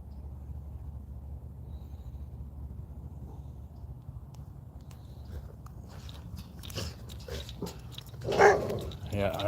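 A dog barks and growls near a broken fence during a walk outdoors, with a loud close burst near the end over steady low background rumble, while people talk.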